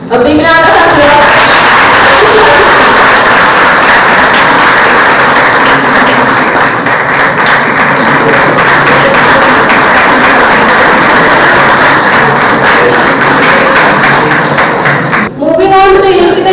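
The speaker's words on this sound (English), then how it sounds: "A big round of applause." An audience at a college Engineer's Day ceremony in Warananagar breaks into loud, dense, sustained clapping that fills the hall for about fifteen seconds before cutting off abruptly.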